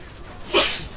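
A single short sneeze bursts out about midway, fairly close and loud against a quiet background during a French-language Call of Duty Modern Warfare 2 gameplay commentary.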